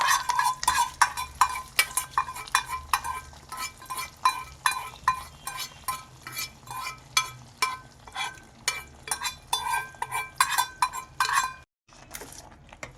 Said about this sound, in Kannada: ಈಗ ಮಿಕ್ಸ್ ಮಾಡ್ತಾಯಿದ್ದೀನಿ